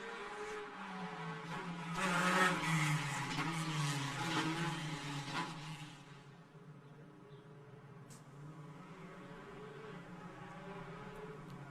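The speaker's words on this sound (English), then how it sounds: "A lot of tyre squealing going on, and tyres very much on their minds at the moment" Formula 4 race cars on the Macau Grand Prix street circuit pass with engines whining and tyres squealing, a drawn-out swell of noise that peaks early, then fades to a quieter engine drone.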